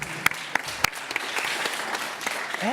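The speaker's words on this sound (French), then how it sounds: "On peut l'applaudir." Scattered clapping from a small audience at a televised regional event, with a few sharp, distinct claps standing out over a light, uneven patter.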